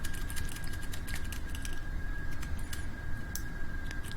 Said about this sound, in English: I don't know if you can hear that keyboard clacking